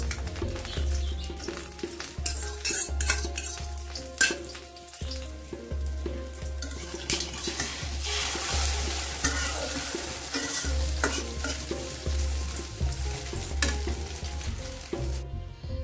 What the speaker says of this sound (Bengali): বাগার দিচ্ছি